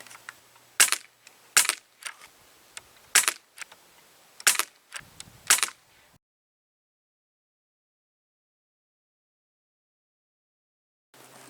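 An Umarex APX air pistol fires Beeman coated wadcutter pellets in about seven sharp, close snapping shots at uneven intervals over a few seconds, followed by silence.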